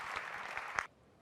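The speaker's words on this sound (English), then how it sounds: "You hear the crowd appreciate this one." A table tennis crowd at the German Open applauds a rally between Timo Boll and Jun Mizutani, a dense burst of clapping that cuts off abruptly.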